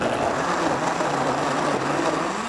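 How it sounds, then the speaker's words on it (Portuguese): A kitchen blender whirs steadily while blending sautéed soup ingredients, a constant motor drone at moderate volume with no breaks. "eu jogo no liquidificador"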